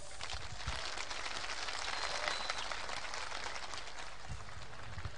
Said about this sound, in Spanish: fuerte el aplauso a este sector de público.